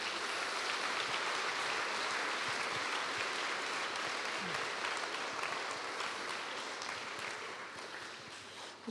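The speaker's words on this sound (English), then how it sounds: "big round of applause" A school hall audience at an annual awards ceremony applauds a student, with dense, steady clapping that stays loud and even for nearly nine seconds before easing slightly at the end.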